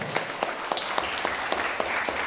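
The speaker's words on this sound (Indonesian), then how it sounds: "Tepuk tangan untuk Durenan" A small audience claps in a lecture hall during a talk on work culture, giving a short, thin run of evenly spaced claps that stays modest and fairly quiet.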